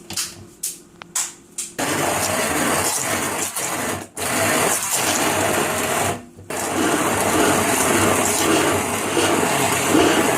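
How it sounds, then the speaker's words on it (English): An electric blender whirs loudly for several seconds while a cooked, cooled mixture is ground into a smooth paste, after a few short stop-start pulses at the beginning and two brief pauses partway through. "Now I will blend it till it becomes smooth paste."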